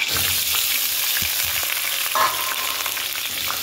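Onions tossed and frying in a pan, steady loud sizzling hiss with scattered clatters from stirring, close and continuous with no talking.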